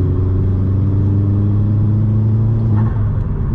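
Steady, loud engine drone from a Vauxhall Astra VXR heard from inside the cabin during downshifts, a constant low hum with a brief shift in pitch near the end.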